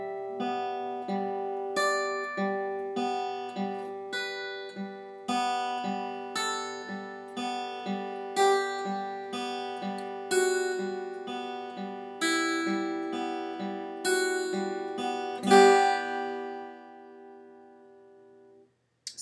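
Acoustic guitar picking out single notes that ring and decay in a steady rhythm, ending a beginner's first song with a final strum across the bottom three strings, close and alone without talk.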